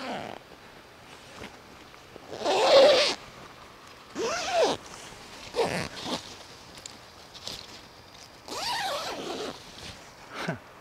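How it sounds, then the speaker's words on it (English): A large plant grow bag is zipped closed over a lime tree, giving several separate bursts of zipping, some long and rasping, some short, with quiet pauses between them and no talk. "Maybe I just need to zip it up and see what happens."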